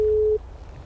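Phone busy tone inside the GTA 5 video game, heard after a call hangs up: a single steady electronic tone that holds for under half a second, then cuts off, leaving low background hum.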